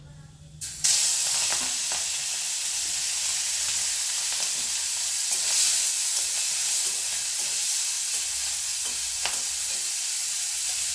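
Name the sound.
prawns frying in hot oil in a wok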